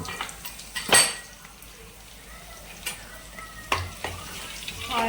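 Onion, garlic and cumin sizzling in a little oil in a pan, a steady frying hiss broken by a few sharp clinks of a spoon against the pan.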